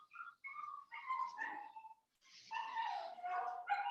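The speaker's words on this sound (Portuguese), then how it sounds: "as cachorras vão ficar doidas, velho" Excited dogs yip and whine in repeated high, tonal bursts, with a short pause midway, at moderate loudness and with no talking.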